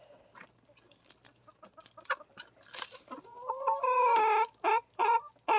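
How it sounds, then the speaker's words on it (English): Rooster and hens on a snowy winter homestead, first soft scattered clucks and rustling, then loud, close, repeated squawking calls in bursts toward the end. "There's the rooster."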